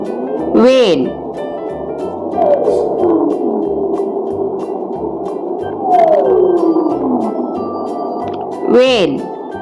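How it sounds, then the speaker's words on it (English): A whale calls in a children's animal-names lesson, with long sweeping tonal moans rising and falling over a steady low hum, and brief spoken words at the start and end. "Whale."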